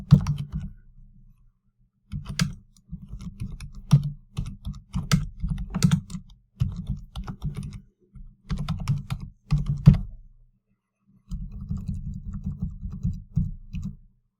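Bursts of typing on a computer keyboard while entering a chart title in spreadsheet software, with rapid clattering keystrokes in several runs separated by short pauses, close and fairly loud with no talking.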